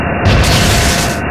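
A bomb explosion sound effect booms loud and close, a single heavy blast with a crackling roar that lasts about a second before cutting off.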